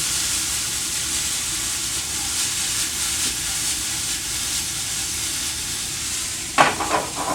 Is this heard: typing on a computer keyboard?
no